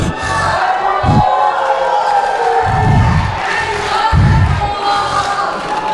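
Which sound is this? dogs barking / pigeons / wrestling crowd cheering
wrestling crowd cheering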